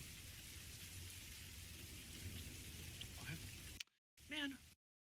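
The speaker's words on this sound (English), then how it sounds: "I do have a rain sound on." Steady rain sound effect played quietly on a livestream, a soft continuous hiss of rainfall that cuts out abruptly near the end, followed by a short spoken word.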